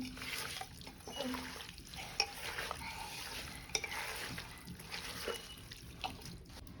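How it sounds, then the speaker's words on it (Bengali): Raw beef pieces being worked together with oil by hand in a bowl, giving faint, soft squelching and slick wet rubbing with a couple of light clicks, quiet and close. "মাংসগুলো হচ্ছে এখন হাত দিয়ে ভালোভাবে হচ্ছে মাখিয়ে নিতে হবে"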